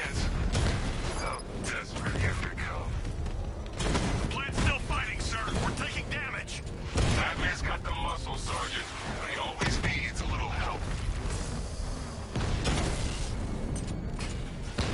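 Batmobile missile barrage firing in the Batman: Arkham Knight video game: dense, loud rumbling bursts and mechanical clatter roll on continuously, layered with game effects and mixed with voices.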